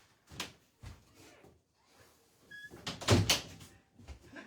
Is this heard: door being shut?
yes